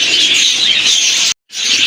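Pigeons at a sale, White Danish among them, give a steady close chatter of chirps and coos that fills the moment, then cuts out briefly before resuming.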